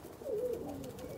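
Domestic pigeons give a soft, low cooing call, faint and close against a quiet background, with no talk.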